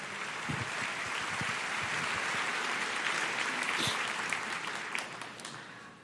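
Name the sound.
church congregation applauding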